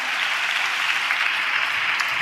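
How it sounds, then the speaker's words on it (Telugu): A church congregation claps together in praise during a worship service, a dense, steady wash of many hands that stays loud and even throughout, with no pauses. "చప్పట్లు కొడుతూ దేవునికి స్తోత్రాలు చెప్దాం."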